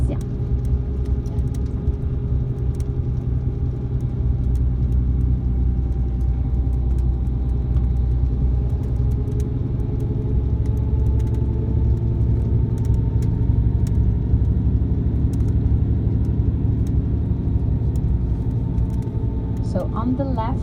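Steady low engine rumble inside a tour bus in Honningsvåg, Norway, heading toward the North Cape, continuous and close throughout, with a guide talking over it.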